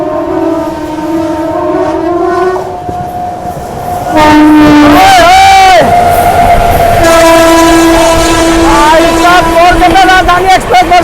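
The Kolkata Rajdhani Express and the Magadh Express pass on Indian rails in thick fog. Loud, sustained horn blasts sound over a heavy rolling rumble, with voices calling out nearby.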